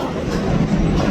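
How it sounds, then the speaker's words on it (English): A train passes in Amsterdam within view of a hotel window, making a steady, loud rumble that holds evenly for the whole moment with no voices over it. "that's a train!"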